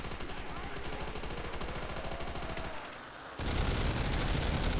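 Thompson submachine gun fires in rapid, steady bursts inside a custom zombie game map set in a Berlin bank, a brief lull, then a louder dense burst of gunfire and chaotic noise.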